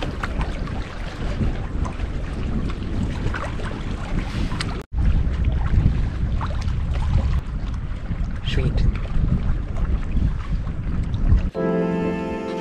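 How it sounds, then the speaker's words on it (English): Strong wind buffets the microphone on a cold lake in early spring during a paddling trip, producing continuous loud gusty roaring and rumbling, with faint water sounds beneath and a brief break partway through. "the wind is blowing me like crazy"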